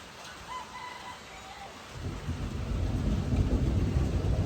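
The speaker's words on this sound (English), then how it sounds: "I'm waiting on the thunder" A low rumble of thunder about eight miles away swells and lingers over steady rain, with a rooster crowing faintly near the start.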